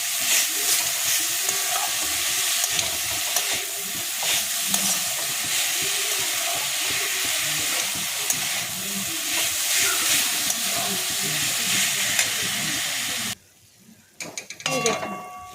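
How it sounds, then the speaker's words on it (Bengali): A coconut mixture for narkel naru is stirred in a pan over lowered heat, giving a continuous close sizzle and scraping that cuts off abruptly near the end, followed by a few faint clinks. "এবার একটু গ্যাস কমিয়ে এটাকে নাড়তে হবে।"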